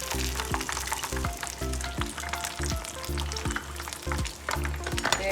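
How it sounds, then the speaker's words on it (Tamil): Chicken lollipops frying in hot oil, a loud steady sizzle and crackle with rhythmic stirring or scraping sounds repeating about once a second, close up and with no talk. "நல்லா ஃப்ரை ஆகிடுச்சு"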